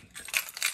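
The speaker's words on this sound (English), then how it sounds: "Car keys, garage door opener." A set of car keys with a garage door opener jangles close by in two quick metallic bursts, bright and clinking, with no talking.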